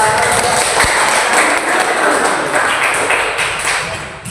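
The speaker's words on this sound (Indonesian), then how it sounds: "beri aplaus kepada" Steady, dense clapping from a classroom of students, loud and sustained throughout with no voices over it.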